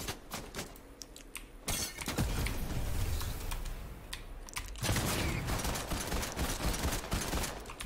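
Rapid video game gunfire crackles as a sustained, dense burst of shots, loud and continuous over several seconds with short gaps, with no talking over it.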